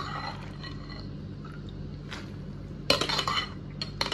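Soaked peanuts dropped into a cooking pot for five-spice peanuts, giving a short, loud rattling clatter late in the clip that rises above a quiet kitchen background.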